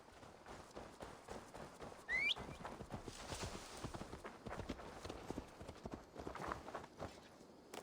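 Horse hooves trotting in Assassin's Creed Valhalla, a steady, quiet clip-clop rhythm with a brief whistle-like sound partway through, all fairly faint.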